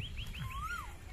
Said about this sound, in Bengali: এই গাছটা একটা কোকিলের শব্দ শুনতে পারবেন